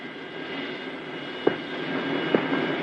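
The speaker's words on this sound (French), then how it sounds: "Moteur à réaction." A jet aircraft engine roars as a steady, broad whine in a 1968 television episode set in Paris, with two faint clicks heard over the continuous engine noise.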